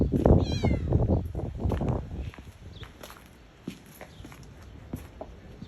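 A stray kitten gives a couple of short, rising meows near the start, over scuffing footsteps and low talk, then quieter movement follows.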